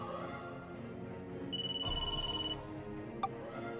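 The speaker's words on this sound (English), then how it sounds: "Crystal, your phone is ringing." A phone rings in Disgaea 5, a thin electronic tone sounding over game music, followed by a short bright chime.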